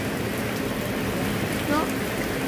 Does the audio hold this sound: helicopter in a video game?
no